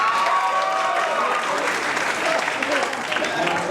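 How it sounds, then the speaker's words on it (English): Comedy club audience applauding a birthday shout-out, a full, steady wash of clapping from a crowd that holds level throughout, with some voices mixed in. "Give her a round of applause."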